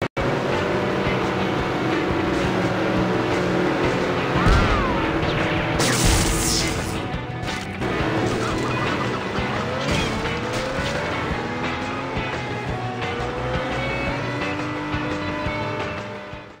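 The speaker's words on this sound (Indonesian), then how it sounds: "game-game ringan seperti Beach Buggy Racing ini dapat dimainkan walaupun tidak begitu lancar" Beach Buggy Racing plays on an Android receiver box, its loud continuous engine drone and crashes filling the whole stretch with racing game music and effects, briefly cutting out around a stutter.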